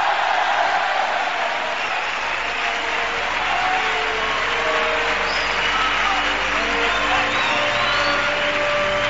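A packed theatre audience at the Teatro Falla in Cádiz applauds and cheers loudly and continuously, with whoops and shouts rising from the crowd over sustained clapping.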